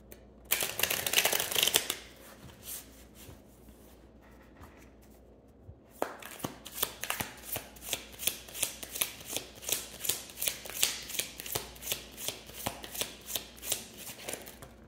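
Tarot cards being shuffled by hand, a crisp riffle burst at first, then a pause, then a long run of steady rhythmic shuffling taps, close and fairly quiet with no talking.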